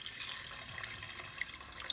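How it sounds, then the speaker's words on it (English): Warm water poured into a cooking pot holding cow foot for Guyanese pepper pot, a steady soft splashing pour running without pause, close and fairly quiet. "Now I'm gonna add some hot water,"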